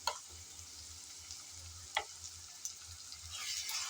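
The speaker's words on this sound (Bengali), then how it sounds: "এখন আদা আর রসুন পেঁয়াজের সাথে নেড়ে চেড়ে ভেজে নেব" Soft, steady sizzle of ginger-garlic paste frying with onions in a pan, with a few light stirring scrapes and a gentle rise in frying noise toward the end.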